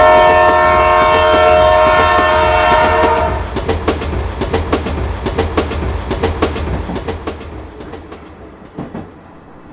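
A train rolls past on railway tracks, opening with a sustained loud horn blast, then a fast, steady clickety-clack of wheels over rail joints that slowly fades.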